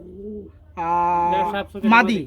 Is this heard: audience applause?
no